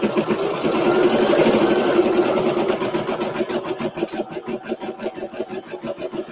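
A home embroidery machine stitches a scallop border, first under a blend of motor whir and room noise, then settling into a rapid, steady, evenly pulsing needle rhythm, close and moderately loud, with no talking.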